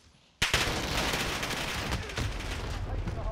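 MP5 gunfire in an online shooter video game, a sudden burst starting after a quiet moment and continuing as dense rapid automatic shots with crackling noise, fairly loud throughout.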